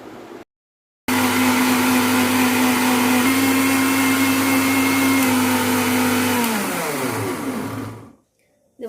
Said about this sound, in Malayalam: മിക്സിയിൽ തേങ്ങ അരച്ചെടുക്കുക